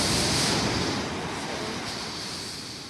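Ocean waves wash in at a beach as a steady broadband rush, loud at first and easing slightly as the water runs up the sand, with no voices over it.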